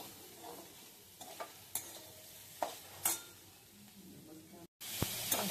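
Onions and tomatoes frying in a pan for dhaba-style shev bhaji: a quiet, low sizzle with scattered sharp scrapes and taps from stirring, then a brief cut and a slightly louder hiss.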